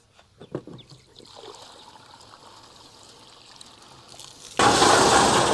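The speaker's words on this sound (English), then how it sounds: "I'm tumbling that petrol tank to get it clean." Soapy water sloshes inside a petrol tank from a 1968 Datsun 520 mini truck as a concrete mixer tumbles it, giving soft trickling swishes that suddenly swell into a loud, close, continuous rush near the end.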